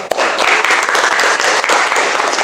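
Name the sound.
audience applause in a classroom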